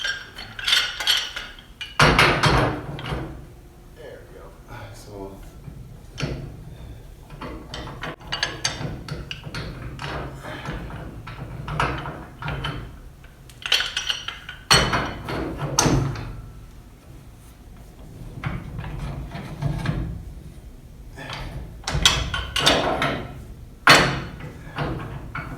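Metal pipe wrenches clank and ratchet while tightening drip and spray irrigation pipe fittings inside a greenhouse, with irregular knocks, scrapes and clatter close by, no talk.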